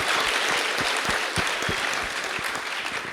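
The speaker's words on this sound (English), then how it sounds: "Let's give him a round of applause." Warm applause from a live podcast tour audience, a close, full burst of clapping with distinct individual hand claps standing out, continuing steadily throughout.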